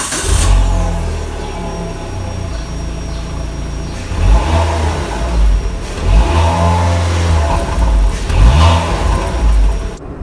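A Proton Saga car engine with 170,000 km cranks and catches, then idles with a steady rumble, revving up in a few swells before settling back.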